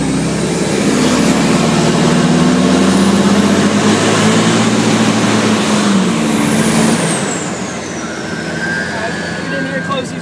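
John Deere 3520 sugarcane harvester engine revved from inside the cab with a window open, a loud steady roar with a rising whine that eases back after several seconds, and a voice speaks over it.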